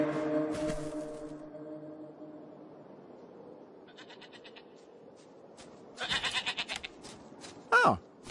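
A goat bleats twice in a video game, separated by quieter stretches: first a wavering, nasal bleat, then later a short, sharp cry after a brief rattling sound.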